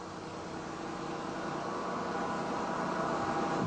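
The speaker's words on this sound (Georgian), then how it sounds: "ძრავი მუშაობს ყოველგვარი ენერგიის გარეშე." A Kapanadze free energy motor running on its own generator, giving a steady, continuous broadband whir and hiss that holds at an even level throughout.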